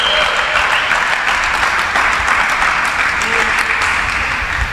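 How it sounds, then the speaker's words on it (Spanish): A church congregation claps loudly and steadily in unison throughout, a dense continuous wash of applause filling the room. "Dale un aplauso al Señor"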